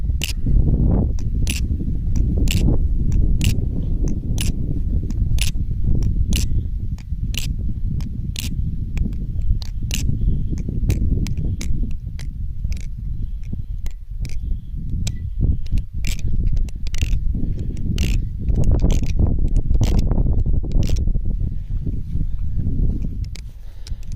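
A lubed Baliplus Kraken balisong knife being flipped, a steady series of crisp metallic clicks and taps roughly every half second over a low rumbling handling noise, close up.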